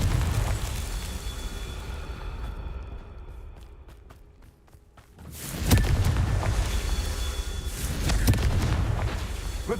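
Confringo fire curse cast in Hogwarts Legacy, a sudden booming blast at mid-clip followed by crackling debris and a second burst, loud against rumbling game ambience.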